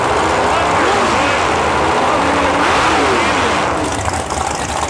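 Big block Chevrolet drag car engines on nitrous rumble loud and dense at a drag strip, revving continuously for about five seconds with broadband roar and shifting engine tones, a voice talking over the noise.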